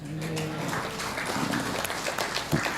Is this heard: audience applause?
yes